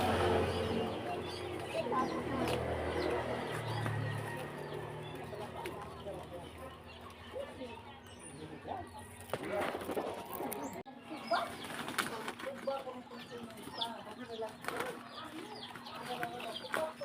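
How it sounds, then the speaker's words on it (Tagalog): Chickens clucking and calling around a backyard vegetable garden, with scattered bird sounds and a brief burst of wing flapping, steady over about seventeen seconds beneath a person talking. "kaya na yung manok."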